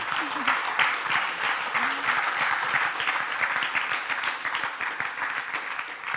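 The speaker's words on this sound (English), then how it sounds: "another round of applause." A seated audience applauds at a business talk event, sustained steady clapping near and loud across the whole stretch, with a couple of faint voices underneath.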